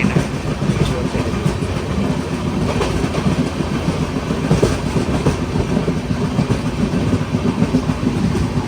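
Steady rumble of a passenger train running on rails, continuous and fairly loud, with faint rhythmic clatter throughout.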